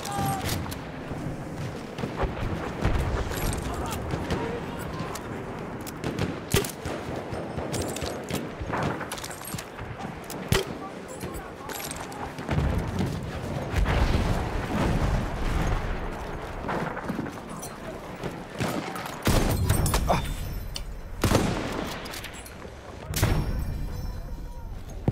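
Bomb blasts and rifle fire roar through a Battlefield 1 battle at Cape Helles, with dense, overlapping booms and bursts of shooting that rarely let up, louder thuds around the midpoint and near the end.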